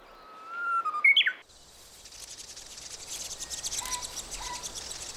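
Korean bush warbler chicks in a nest give a short burst of thin, high chirping calls, then a soft, steady insect buzz takes over with a few faint calls in the background.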